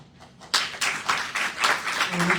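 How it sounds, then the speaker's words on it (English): Applause from an audience at a UN indoor panel on Indigenous issues, honoring women: a burst of clapping starts abruptly after a quiet moment and continues in dense, steady waves to the end. "pedir un fuerte aplauso para todas las mujeres que hoy ya no están en este plano terrenal"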